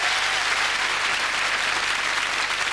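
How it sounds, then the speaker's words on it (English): Studio audience on a TV entertainment show applauding Janet Street Porter, a loud, dense, even wash of clapping throughout. "Janet Street Porter, give her a round of applause"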